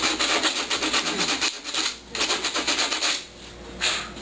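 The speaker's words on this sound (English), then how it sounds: "The good thing about this plastic is it sands pretty easily." Sandpaper rubs back and forth over a raw cast plastic helmet, a close, scratchy rasping in rhythmic strokes with brief pauses between passes.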